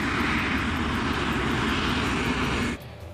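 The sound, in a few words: airliner engines while taxiing to the runway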